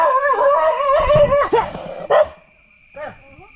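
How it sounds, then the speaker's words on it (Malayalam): A dog nearby on a rural hillside path among rubber plantations gives loud, drawn-out howls and yelping barks in quick bursts, then quieter whimpering yips. "പട്ടി വന്നാണ്ടോ കടിക്കാൻ"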